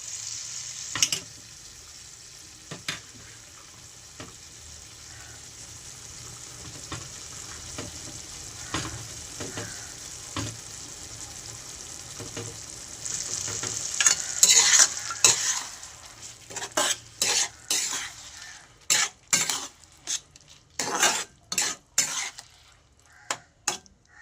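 Dried fish curry with shelled peas being stirred in a pan, a quiet simmering hiss at first, then a run of loud, uneven spoon scrapes and clatters against the pan in the second half, with no speech.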